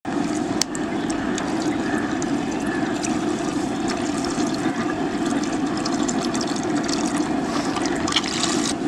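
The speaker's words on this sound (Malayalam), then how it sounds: "ചട്ടി ചൂടാണ്ട് നമുക്ക് ഓയിൽ ഒഴിച്ച് കൊടുക്കാം ബീഫ് ഫ്രൈ ചെയ്യാൻ വേണ്ടി." Cooking oil poured into a hot pan before frying beef for a dry beef fry, a steady liquid rush and trickle with faint crackling, continuous and close with no talk.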